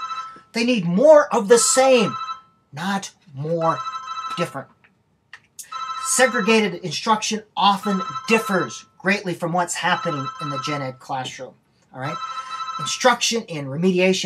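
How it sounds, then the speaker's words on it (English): A mobile phone rings repeatedly in a classroom-lecture setting, its steady tonal ringtone running under continuous talk from a teacher for the whole stretch. "And there's my phone going."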